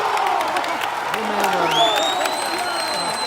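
Crowd applauding and cheering at a men's pétanque world championship final in Santa Susanna, a steady dense roar of clapping and whoops throughout, with voices calling over it.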